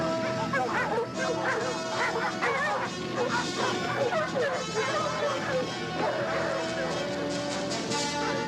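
Several dogs bark and yip continuously in an excited chase after a fox, loud and overlapping, with a fox hunt in a 1962 television drama as the setting.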